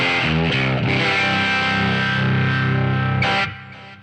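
Overdriven electric guitar split through two amps, a 1x10 and a 4x15 cabinet, with ping pong delay: sustained distorted chords ring loud and steady, then cut off near the end as delayed repeats fade.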